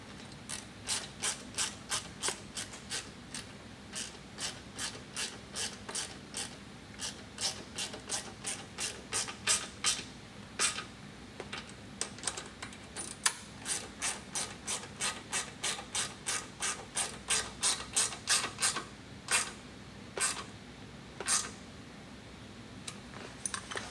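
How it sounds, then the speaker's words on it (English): A ratchet wrench with 10mm socket, then a 4mm Allen key, tightens trailing-arm mud flap hardware on a 2022+ Polaris RZR Turbo R, giving a long, steady run of close, crisp ratcheting clicks with brief pauses between bursts. "we're just going to take our 10mm and our 4mm Allen and tighten both of those down"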